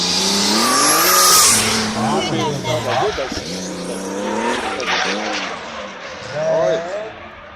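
A drift car slides with its engine revving and tires squealing loudly, the screech rising and falling in waves while a commentator talks over it.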